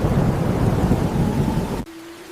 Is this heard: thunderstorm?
yes